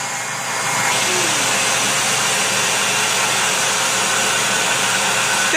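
A child runs a household vacuum cleaner indoors, a steady loud motor whine that swells after the first second and holds evenly throughout, with no talk over it.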